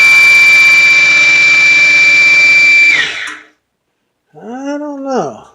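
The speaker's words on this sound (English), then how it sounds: "I put a table saw motor on this." A woodworking shaper driven by a table saw motor runs with a loud, steady high-pitched whine, then is switched off and spins down, followed by a brief silence and a person talking.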